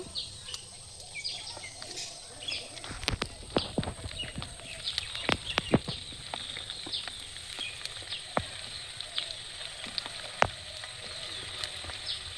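Potatoes deep-fry in hot oil in a clay kadai outdoors in a field, cooked for a village-style Kashmiri aloo dum. Irregular sharp crackles and pops burst over a soft steady hiss, and faint birdsong sounds in the open air.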